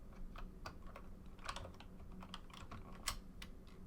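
Someone types a search on a computer keyboard, with a short run of quiet, irregular key clicks and a couple of sharper taps, close by and faint with no speech.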